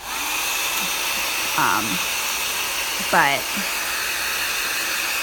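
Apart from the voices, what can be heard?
heat gun drying acrylic on a Bible page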